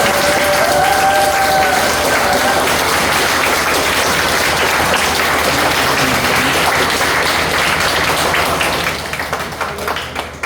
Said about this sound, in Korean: 이분들 나올 때 뜨거운 박수로 맞이해 주시겠습니다